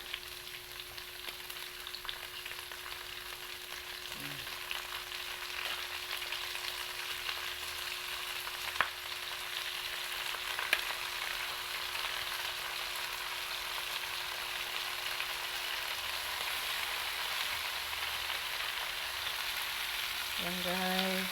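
Pork liver fries in a pan with a steady, dense sizzle that holds for the whole stretch, a constant hum running underneath and a few faint clicks and stirring touches.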